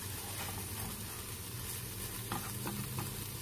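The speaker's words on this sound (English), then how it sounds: "Now I am going to mix the prawn with this masala" Cooked prawns are tossed together with masala in a pan, a low steady sizzle with soft stirring scrapes and a few light knocks toward the end.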